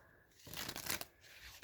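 Tarot cards being shuffled by hand, a close, dense flurry of riffling and slapping card noise lasting about a second, with quieter handling before and after.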